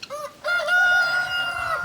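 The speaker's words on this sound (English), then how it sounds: "we have an abundance of guinea fowl out today" Guinea fowl on a farm, out with a mixed flock including a Pekin duck, give a short harsh call that rises into a drawn-out crowing cry, loud and close, with no talk.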